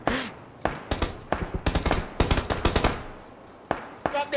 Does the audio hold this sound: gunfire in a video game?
yes